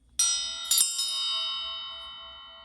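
A small bell rung for good luck during a tarot reading: two quick bright strikes close together, then a lighter tap, all ringing out clearly and fading slowly in a quiet room.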